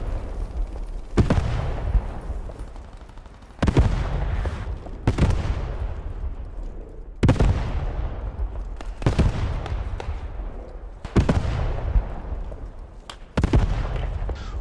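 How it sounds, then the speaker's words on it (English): Heavy enemy artillery shells slam down in a World War 2 shooter game, seven or eight loud booming impacts spaced a second or two apart, each trailing a long rumbling decay under a constant battlefield din. "Enemy artillery at church."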